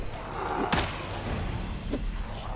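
Two blunt thuds land well apart as a rolling pin strikes zombies in the Project Zomboid video game, each hit brief and solid over a steady background hum.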